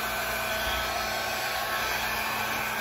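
A hair dryer blows steadily on acrylic pour paint, a loud, continuous airy whoosh with a constant motor hum that holds unchanged throughout.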